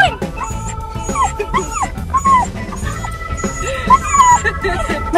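An excited puppy on its way to a dog beach whimpers and yips in quick, high-pitched bursts, close and repeated throughout, mixed with people talking excitedly nearby.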